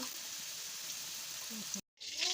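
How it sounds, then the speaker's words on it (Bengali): Potatoes and meat fry in a pan with a steady, close sizzle and crackle, cut by a brief dropout of silence before the frying resumes, a voice faintly under it. "মাংসর আলু ভাজা বসিয়েছি দেখো"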